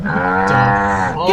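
A cartoonish cow moos loudly in the Sam & Max: Situation: Comedy video game, one long harmonic low that bends upward at the end, close and alone.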